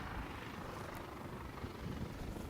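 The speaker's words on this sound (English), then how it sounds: "I think I can see it looks like approaching aircraft." A Jetstar airliner inbound from Auckland approaches to land at a Canterbury airfield on a windy nor'wester day, heard as a faint, distant, steady engine roar.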